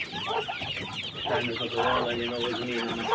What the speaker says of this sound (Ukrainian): переселяв курчат я сам, бо вони дуже пищаді